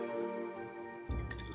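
Orbeez water beads fall into a bowl of cold water near the end, making a brief cluster of soft drips and squishy splashes after a quiet hum.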